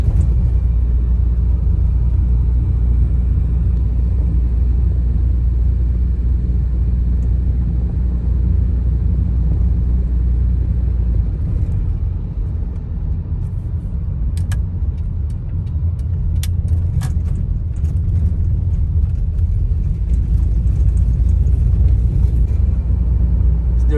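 Steady, loud low drone of a Volvo 960GL engine pulling up a hill at low revs around 30 km/h on light throttle, a continuous rumble with a brief dip midway and a few faint clicks.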